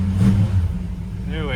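A 1968 Ford Ranchero with a 289 V8 idles with a low, steady throb and a slight rev, close by, while someone talks over it.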